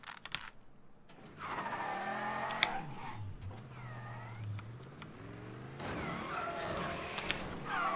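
Car engine droning and tires skidding with squealing sweeps in the video game Mafia 3, loud and continuous with a brief impact, no talk.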